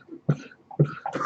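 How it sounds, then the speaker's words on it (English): A man coughs while inhaling a cigarette: two or three harsh, close hacking bursts in quick succession, loud and alone without talking. "I happen to be inhaling my cigarette, and I'm trying not to cough my head off."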